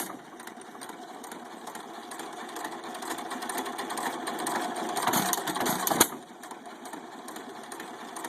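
A restored 1917 United 2.5 hp hit-and-miss stationary engine running steadily, its close, busy mechanical clatter building slightly louder before a sharp bang and a return to a quieter chugging.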